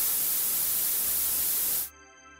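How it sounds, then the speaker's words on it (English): Steady, loud hissing static fills the air, then cuts out abruptly near the end, leaving a faint electronic hum. "For a multiple frequencies, this forms into static noise, used in TV and radio sets"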